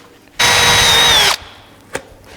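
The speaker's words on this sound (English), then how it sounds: "Drill a hole for this front plate where we trimmed it." A power drill bores a hole through a trimmed front number plate on a Yamaha YZ250 motocross bike in one loud, steady whine of about a second. It stops abruptly and is followed by a faint click.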